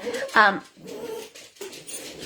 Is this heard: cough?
no